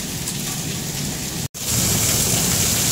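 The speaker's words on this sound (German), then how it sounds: "Oh mein Gott, das hagelt wie Sau, ey." Small hailstones pelt down densely and steadily, a loud continuous hiss of small impacts, with one brief dropout midway.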